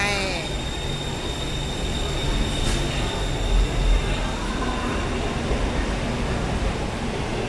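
A BTS Skytrain at crowded Siam station in Bangkok rumbles steadily with a thin high whine, a constant mechanical roar close by, and voices murmur faintly beneath it.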